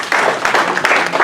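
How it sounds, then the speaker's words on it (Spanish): Church congregation applauding during a Spanish-language sermon, a brief burst of loud, dense clapping with a voice briefly heard over it. "Un aplauso al Señor."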